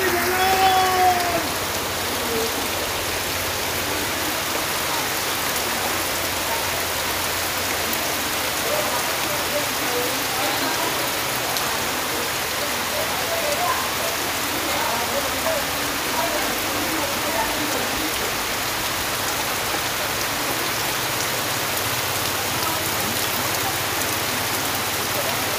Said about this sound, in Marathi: मुसळधार पावसाने आमचं काम विहिरीचं काम थांबवलं आहे